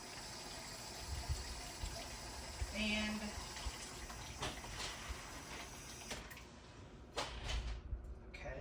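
Water poured into a pot for pickling cucumbers gives a brief pouring and filling sound among kitchen clatter and soft handling noises, with a speaking voice present.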